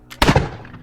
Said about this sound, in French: Une étincelle jaillit du canon de Chris, suivi d'un bruit de détonation étouffé par le silencieux.